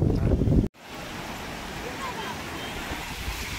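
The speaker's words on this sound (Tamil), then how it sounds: "காத்து பயங்கரமா இருக்கு. கடல் காத்து, கடல் காத்து, உப்பு காத்து." Strong salty sea wind roars across a beach, a steady loud rush with waves blending into it, preceded by a brief burst of louder buffeting.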